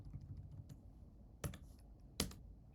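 Keys clatter on a computer keyboard in short sparse bursts, a few soft taps followed by two sharper, louder strikes, close by in a quiet room with no speech.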